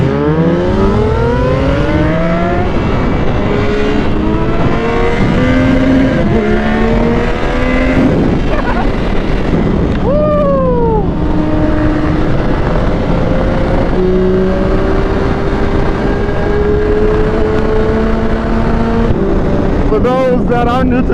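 A Yamaha R9 sport motorcycle and a 2005 Yamaha R6 rev loudly while riding, engine tones climbing through gears with repeated rising sweeps and brief shift dips, close and continuous for the whole stretch.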